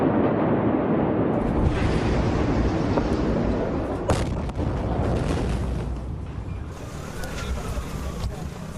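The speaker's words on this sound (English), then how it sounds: "This was the fire in Beirut port. The flashes, they say, were fireworks. Then something much bigger ignited." A massive ammonium nitrate explosion at Beirut port, heard as a loud, continuous deep roar and rumble from a distance, with a sharp crack partway through and wind-like noise after.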